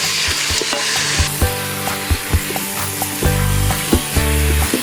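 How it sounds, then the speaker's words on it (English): Onions fry loudly in an Instant Pot, a constant sizzle broken by repeated scraping stirs and knocks of a utensil against the pot bottom, near and with no talk. "Go ahead and give that a stir so it doesn't stick on the bottom."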